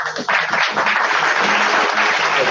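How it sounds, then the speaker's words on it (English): Loud, sustained applause from an audience at a live show, steady clapping filling the whole stretch with a few faint voices mixed in. "Let's get a round of applause"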